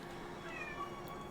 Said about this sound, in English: Cat at the door.